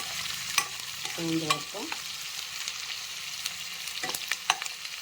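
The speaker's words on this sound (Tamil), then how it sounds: "நல்லா வெங்காயத்தை கலர் வர்ற மாதிரி வதக்கிடுங்க" Onions frying in a pan until they take on colour, a quieter hiss punctuated by scraping stirs and sharp utensil clicks, with a short spoken word partway through.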